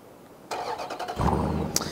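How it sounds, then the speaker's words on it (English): A 2018 Dodge Durango SRT engine starting by remote start: a brief quiet lead-in, then a crank and the engine catching into a low rumble with a short rev near the end. "the vehicle starts right up for you, has a really nice rumble"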